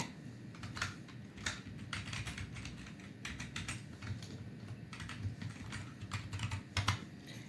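Fingers type on a computer keyboard to enter an ID on an application portal, a steady patter of faint, close key clicks with irregular bursts and no talking.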